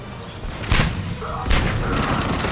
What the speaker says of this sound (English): The frag grenade bounces once before exploding.